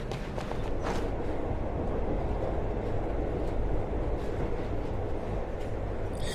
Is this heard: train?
yes